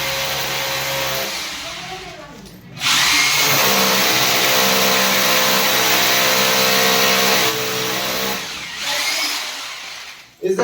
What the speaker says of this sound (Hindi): इस जगह पे हम ड्रिल कर ले रहे हैं ड्रिल की मदद से।